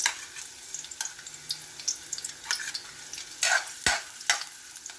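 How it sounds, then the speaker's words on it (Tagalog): Chopped onions drop into hot cooking oil and sizzle in a soft, crackling wash, with light stirring clatter and a few sharper pops toward the end. "So, ayan, nagpainit na ako ng mantika. At ilagay natin ang ating sibuyas."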